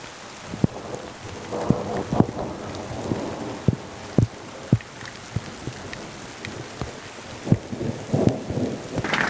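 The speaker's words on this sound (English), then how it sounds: "Rain, oh rain, oh rain is amazing." Heavy, torrential rain with a little hail patters steadily close by, with scattered sharp drops and thuds striking a surface and occasional low rumbles in the background.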